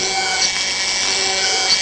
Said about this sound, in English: A dentist's drill does the worm's work.